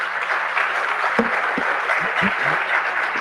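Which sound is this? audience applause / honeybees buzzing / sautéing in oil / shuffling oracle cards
audience applause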